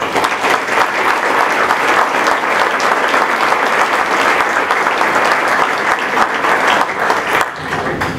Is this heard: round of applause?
yes